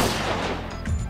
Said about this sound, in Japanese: なんだ？銃声が？